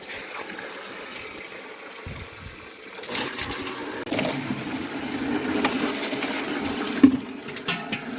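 Water gushes from a pipe at a village home, a continuous broadband rush that swells and grows louder partway through, with a few small knocks and no talk.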